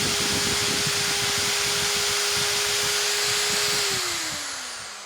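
A Bosch GSB 600 RE 13 mm, 600-watt corded drill runs steadily with a sustained motor whine, close and loud, then winds down in pitch near the end as the trigger is released.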